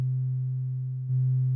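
A modular synth VCO puts out a low, pure sine tone, raised one octave, held steady and loud, with a brief glitch near the end before the same tone resumes.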